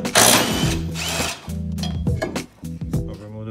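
Power tool, likely an impact driver or drill, loosening small bolts on a BMW exhaust manifold during a wastegate rattle repair, with loud bursts of whirring and stuttering rattles, brief pauses and clinks between runs.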